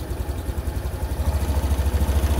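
A motorcycle engine with a weak, often-drained battery runs close by, a low pulsing throb that swells in loudness and rhythm as it is revved partway through, with no talking.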